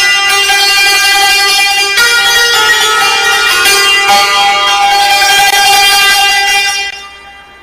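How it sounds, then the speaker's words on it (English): Santoor played in the Persian mode Shur, with bright hammered strings ringing in dense shimmering runs and sustained resonance that fades out at the end. "what I'm going to play for you now is santoor in shur"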